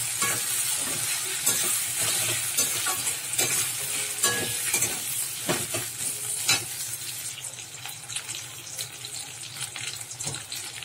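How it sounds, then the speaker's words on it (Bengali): Tomatoes and green chillies frying with onion and ginger-garlic paste for a crab curry, a close, bright, watery sizzle with intermittent stirring scrapes, steady throughout and no talking. "এরপরে দিয়ে দিচ্ছি টমেটো আর কাঁচা লঙ্কা কেটে রাখা"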